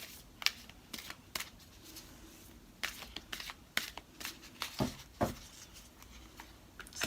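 Angel Answers oracle cards being shuffled by hand, with quiet, brief papery riffles and flicks at irregular intervals.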